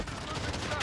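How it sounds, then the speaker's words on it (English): Gunfire in the Call of Duty Modern Warfare video game: a brief, faint burst of shots that blurs into a continuous rattle of fire, lasting under a second. "The gunshots, of course."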